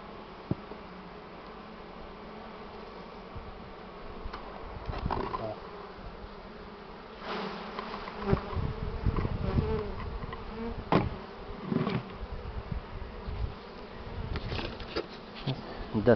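Honeybees at an open hive during nest expansion buzz in a dense, continuous drone, close to the ear, with louder swells and bumps as frames and boards are moved, no talking.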